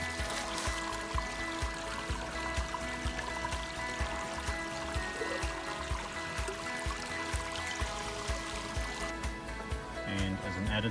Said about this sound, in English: this is one of the many water collection points on the trail, and I'm just going to refill.